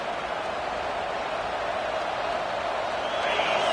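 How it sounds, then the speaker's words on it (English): A loud stadium crowd at a football game, a steady full-throated roar that fills the space and swells slightly near the end, with no talk over it. "This crowd, full throat, splitting the eardrums"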